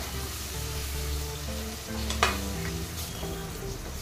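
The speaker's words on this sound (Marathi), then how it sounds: "आता मी यात टोमॅटो देखील सोडत आहे. हे टोमॅटो देखील आपल्याला तेलामध्ये चांगले एकजीव करून घ्यायचे आहे." Tomatoes fry in oil for a soya chunks biryani, a steady close sizzle with occasional scrapes of a stirring spoon, continuous and fairly loud.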